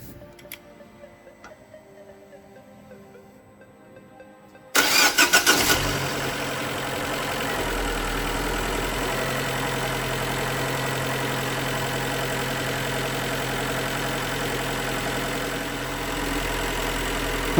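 A Fiat Grande Punto 1.4 T-Jet engine fires up for its first start after a spark plug change. A brief crank catches into a loud start, then settles into a steady, even idle, close by.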